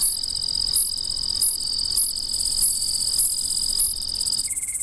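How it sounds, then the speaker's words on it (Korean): Grass insects in a forest at night chirp in a dense, high-pitched chorus with regular pulsing beats, loud and continuous with no voices. "숲속은 풀벌레 소리로 가득하다"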